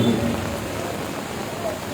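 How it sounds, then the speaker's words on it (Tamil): Pouring rain at an outdoor public meeting makes a steady, dense hiss and patter that fills the short stretch without letting up. "கொட்டும் மழை என்றாலும் நமது கோரிக்கைகளை வலியுறுத்த வேண்டியது தவிர்க்க முடியாத கடமை"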